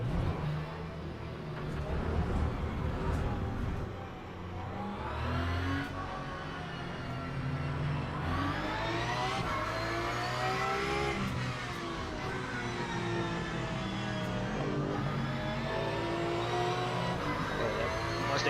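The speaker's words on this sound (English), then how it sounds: "Oh, that Mustang sounded beautiful." Mustang race car engines in the racing game Le Mans Ultimate roar and rev through gear changes, rising and falling pitches as cars pass close by, loud and continuous with engine noise layered throughout.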